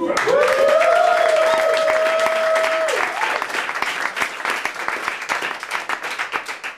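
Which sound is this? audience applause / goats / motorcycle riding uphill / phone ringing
audience applause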